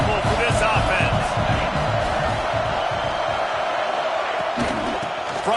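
Stadium crowd at a college football game between Florida and Utah State, a loud continuous roar of cheering and noise with a commentator talking over it.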